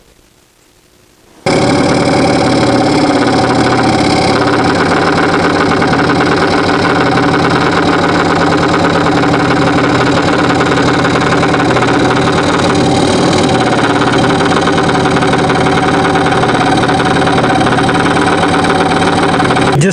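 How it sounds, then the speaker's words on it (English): A jigsaw cuts hand holes in a solid-wood serving tray made from cutting board stock, starting after a brief quiet moment with a loud, close, steady buzzing whine that runs unbroken to the end. "cutting out with the jigsaw or the hand holes"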